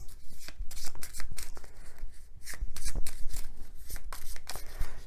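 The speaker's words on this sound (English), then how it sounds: "now we shuffle" A deck of cards for the Star Realms deck-building game is shuffled up close, giving repeated crisp riffling and flicking bursts of cards that run almost continuously across the clip, with no talking.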